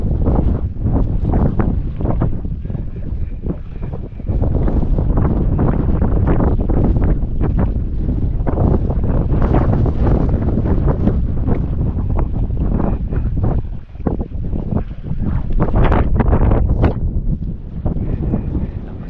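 Strong northeast monsoon wind (amihan) buffets the microphone near a fishing trap by the water, a loud continuous roar with gusting swells and brief dips, no voices.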